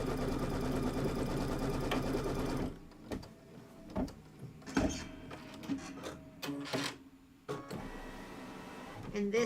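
A home sewing machine stitching fabric for Kimberbell Hello Sunshine filler blocks, running steadily in a loud continuous burst and then in short start-stop runs with pauses, while someone talks close by.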